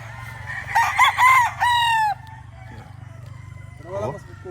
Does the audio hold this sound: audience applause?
no